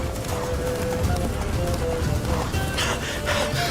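Roach, a horse in The Witcher 3 video game, gallops with rapid, steady hoofbeats under continuous game ambience, and a few brighter noisy bursts come near the end.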